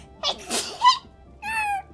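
During an art livestream, a person sneezes once close to the microphone in a sharp burst, followed by a brief high squeaky vocal sound.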